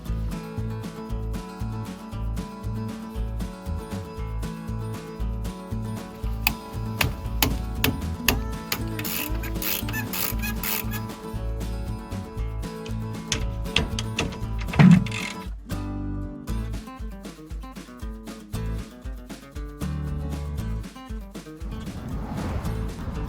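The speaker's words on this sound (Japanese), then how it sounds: "シボレアストロの場合はこちらのキャリパーボルトを外すのにインチ工具が必要になります。" A caliper bolt on a Chevrolet Astro camper van brake being loosened with an inch-size socket tool, giving a long run of dense mechanical ratcheting and clicking with occasional heavier clanks, close and steady throughout.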